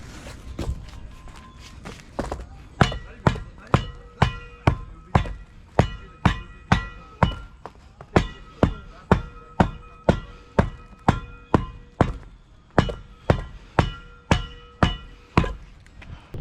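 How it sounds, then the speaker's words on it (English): Hand tamper pad pounding polymeric sand into a paver walkway, a long run of sharp, evenly spaced thuds that starts softer and grows louder and more regular. "even with just hand tamping with the pad, it settles the poly really good"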